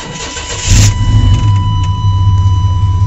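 An OBS Chevy truck engine cranks cold and roars to life up close, then settles into a steady, rumbling idle.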